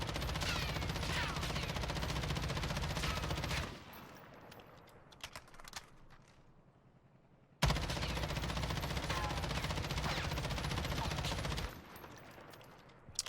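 M13 rifle with a 60-round magazine fired in Warzone, two long sustained full-auto bursts of rapid, close, loud shots separated by a short pause with a few scattered single sounds.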